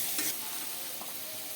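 Malabar spinach greens frying in a pan with slit green chillies and turmeric, a steady soft sizzle running throughout at close range, with a brief stir near the start.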